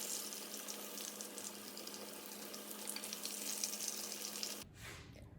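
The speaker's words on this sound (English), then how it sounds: "by this time the oil will be sizzling very hot and you'll be able to add more" Chicken frying in very hot oil gives a steady, dense sizzle up close, then cuts off sharply near the end, leaving quieter background.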